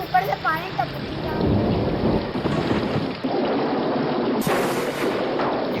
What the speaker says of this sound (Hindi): मुझे लगता है बारिश हो रही है गाइस।